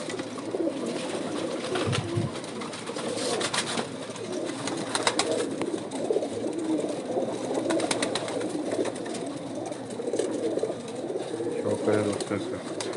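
Pigeons of a flying and show-quality breed coo steadily on a rooftop loft, soft repeated calls layered together at close range, with scattered flutters and other noises.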